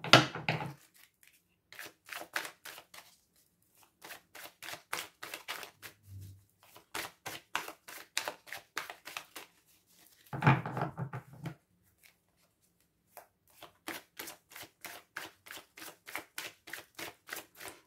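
Tarot cards riffled and dealt in rapid bursts of crisp flicking clicks, several rounds separated by short pauses, with a few soft thumps and rustles as cards are drawn and laid down, close and fairly quiet.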